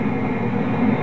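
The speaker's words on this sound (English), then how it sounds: "Sorry, there is a plane." An airplane passes overhead and makes a steady, loud low roar that drowns out the quiet surroundings for a moment, with no voices in between.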